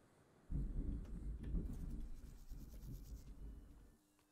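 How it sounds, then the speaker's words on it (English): Thunder from a thunderstorm outside, a sudden low rumble that swells in and rolls on for several seconds before fading away, heavy and muffled as if heard from indoors. "As you can tell, it's a thunderstorm outside right now."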